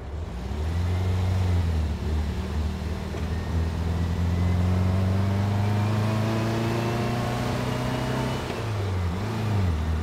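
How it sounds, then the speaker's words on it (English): Air-cooled engine of a 1963 Volkswagen dune buggy running steadily near the microphone, its drone rising and falling in pitch as it revs through gears on a beachside road, with no talking. "show you how our 1963 VW Dune buggy runs"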